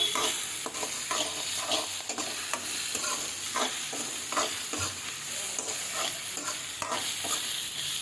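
Pounded green chili paste fries in a pan for pea and capsicum fried rice, a steady crackling sizzle broken by regular scraping strokes of a spatula stirring it close by.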